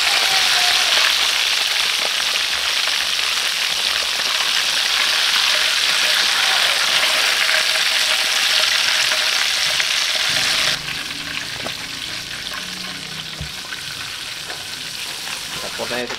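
Ngohiong chicken frying in hot oil, a loud dense crackling sizzle that suddenly drops to a quieter, softer bubbling partway through, with occasional light clinks.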